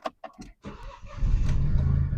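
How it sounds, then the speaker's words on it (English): A Fiat 500 Convertible engine starts up after a few clicks and a short crank. It settles into a steady, rattly idle that grows louder and stays close. "what I've found to do is to start the car"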